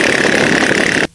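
A motorcycle engine that carries eight to ten passengers runs steadily at a loud, close idle with a constant hum, then cuts off abruptly near the end.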